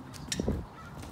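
A few honking bird calls in a park, two or three short loud goose-like honks in quick succession, close by over faint background noise.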